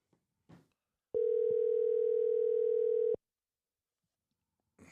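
A telephone dial tone plays as a call is placed, one steady, clear tone lasting about two seconds in quiet surroundings, with faint handling clicks before and after it.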